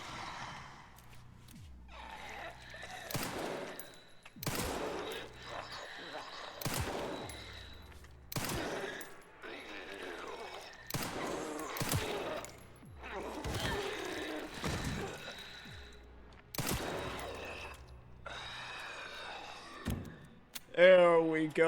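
Gunfire rings out in the video game Resident Evil 9, a series of sharp, separate shots in an uneven rhythm, mixed with game sounds and occasional voice.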